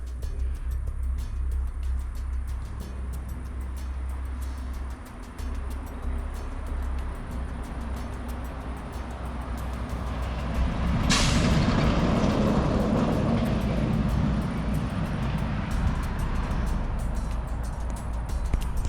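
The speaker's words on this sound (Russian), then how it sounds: "Вы видели только что какая-то фура проехала." A heavy semi truck rumbles along a half-abandoned forest road at night, a low engine drone that swells as it draws nearer and passes, with a brief hiss partway through.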